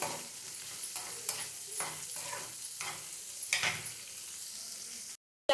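Onions fry in oil in a pan for a Chinese spinach stir-fry, a continuous quiet sizzle broken by repeated scraping stirs at irregular intervals, ending in a brief silence.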